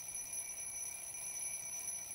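An alarm clock rings in the video game Little Inferno as a steady, faint, high electronic tone that holds unbroken and alone throughout.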